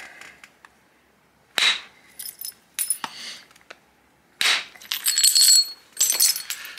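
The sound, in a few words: flintknapping, striking flakes off flint stone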